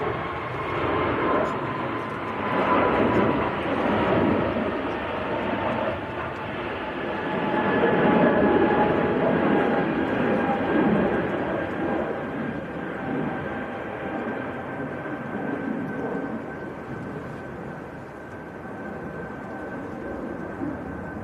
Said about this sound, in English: We've got a departure sneaking out in front of him